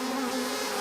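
Close, steady buzzing of honey bees around a beehive, including the larger male drone bees, a continuous droning hum heard alone.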